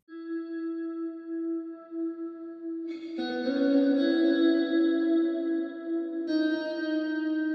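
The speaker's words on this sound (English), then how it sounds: "what I want to show you is this specifically, this slide guitar and this slide echo" Sustained slide guitar tones swell and glide with an echo effect, layered alongside a DX7 synth in Logic, clean and ominous with repeating delays and no talking.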